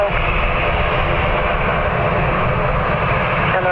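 An aircraft on runway 10 right at Dublin Airport, a loud, steady engine roar with deep rumble and broad whine, holding constant throughout.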